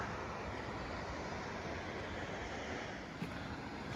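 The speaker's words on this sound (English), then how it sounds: "there's a waterfall right there" Waterfall in a river canyon among redwoods, heard as a constant broadband rushing roar that stays even and unbroken throughout, fairly distant and moderately quiet, with no talking.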